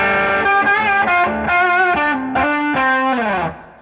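Distorted electric guitar plays quick pentatonic single-note licks without muting, so open strings ring and notes blur together in a loud, sustained run that fades at the end.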